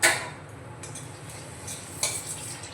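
Hot oil sizzles steadily as three dried red chillies fry, with a couple of soft metallic clinks from a utensil against the pan.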